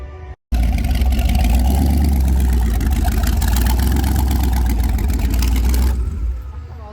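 A drag racing car with a broken exhaust: a loud, raw engine roar cuts in suddenly and holds at full volume for several seconds, then drops away abruptly.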